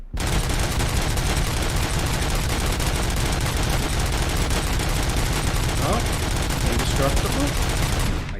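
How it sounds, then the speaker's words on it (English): A heavy machine gun in the video game Robocop Rogue City fires one continuous, loud, dense burst that runs almost the whole time, with no pauses. "machine gun go brr"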